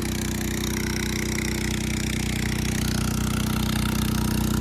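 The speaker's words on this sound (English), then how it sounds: "Out for a sunset with the subtle purr of a little Honda engine." A small Honda engine drives a water pump at a pond dam site, its steady, close idling drone with a strong low harmonic hum running evenly throughout, no speech.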